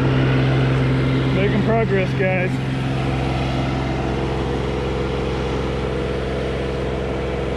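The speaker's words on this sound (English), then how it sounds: "I'm just gonna have to drive the tractor back and forth a lot more times" Mahindra Emax 20S HST subcompact tractor grading a gravel driveway, its engine droning steadily and close throughout, with someone briefly speaking over it early on.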